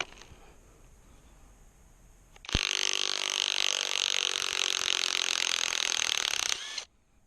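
A Kimo impact wrench backs out a fastener that a DeWALT drove in. After a quiet lead-in it starts abruptly into a loud, steady hammering whir for about four seconds, then cuts off.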